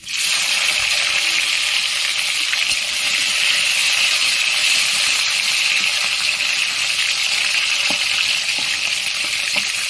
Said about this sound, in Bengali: টমেটোগুলো ভালো করে ভেজে নেব